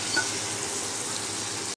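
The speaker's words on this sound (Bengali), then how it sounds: "মা এখানে এবার কচুর শাকটা দিয়ে দিল, মানে কচুর যে ডাঁটার সিদ্ধটা করে রেখেছিল সেটাকে দিয়ে দিল তেলের মধ্যে।" Boiled taro stems sizzle in hot oil in a pan, a steady, close, dense hiss that runs evenly throughout and then cuts off abruptly at the very end.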